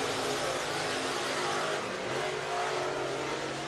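Race cars running qualifying laps at Whynot Motorsports Park speedway, a continuous loud engine roar that rises and falls as cars circle the track, steady throughout with no pauses.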